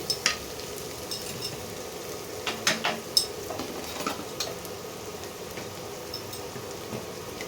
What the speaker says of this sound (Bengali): প্রথমে দেব কাঁচা লঙ্কা কুচি, এটা একটু নাড়িয়ে নিই।